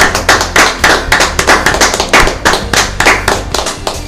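A church congregation applauding to acclaim the Lord, loud rhythmic clapping close by, sustained and even throughout with no voices over it.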